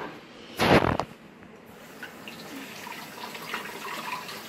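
Tap water runs steadily into a sink while hands are washed after cracking eggs, a soft continuous splashing that follows a brief louder gush at the start.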